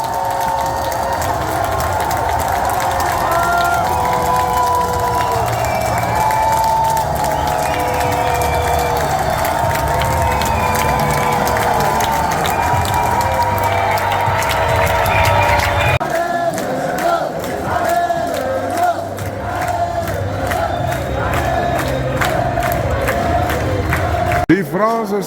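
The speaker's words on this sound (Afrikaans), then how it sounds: "Die Franse skare is lief om te sing, hoor." A large French crowd at the 2024 Paris Olympics sings and cheers loudly and continuously, a dense wash of many voices with chanted melody and shouts, shifting to a slightly sparser cheer partway through.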